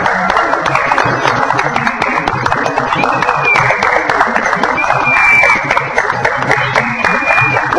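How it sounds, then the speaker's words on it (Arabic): Warm applause for the winner of a Mauritanian poetry contest, dense clapping from the crowd continuing evenly throughout while voices carry over it. "تصفيقة حارة"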